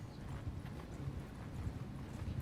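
Horse hooves clip-clop steadily in a video game, a continuous busy patter of hoofbeats, fairly faint with a low rumbling background.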